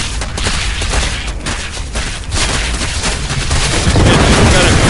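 Dense, continuous StarCraft battle gunfire from units shooting, with loud rapid shots and booming impacts layered into a constant roar, close and intense throughout.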